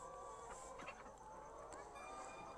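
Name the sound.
laying hens clucking in a chicken house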